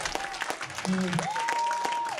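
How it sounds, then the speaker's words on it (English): A church congregation claps in praise during a sermon, steady dense handclaps filling the space with sustained organ or keyboard tones and voices rising over the clapping. "somebody clap your hands and give God some praise"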